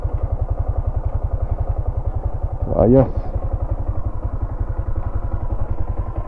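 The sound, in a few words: motorcycle engine running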